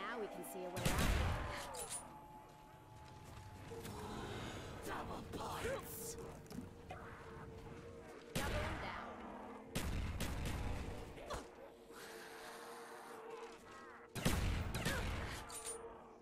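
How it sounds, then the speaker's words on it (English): Ray gun fire in Black Ops zombies on Call of the Dead, several sharp bursts of shots spread over the span with mechanical game noise between them and voices talking over it. "We can shoot so much faster with the ray gun now."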